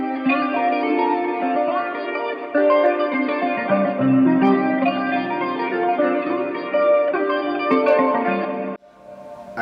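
A layered, sustained afrobeat melody made in FL Studio, washed in heavy reverb and echo, with a slightly warbling, lo-fi tape character, playing steadily before cutting off near the end.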